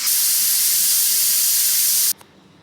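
Loud, steady steam hiss from a pressure cooker being opened after cooking smoky mutton, rushing broadband for about two seconds before cutting off abruptly into near silence.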